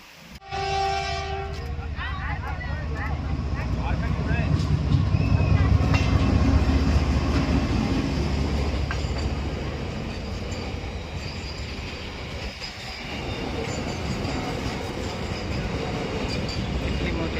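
A train rumbles past close by at Chehar Dham, Limbala, with a loud, steady roar and clattering wheels, a short horn blast at the start and faint voices from a crowd in the background.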